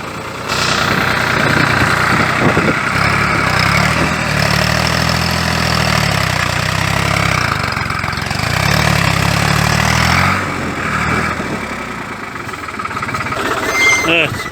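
A heavy diesel tractor engine labors loudly and steadily while uprooting an old grapevine, its low drone rising and dipping under strain, with occasional faint voices in the background.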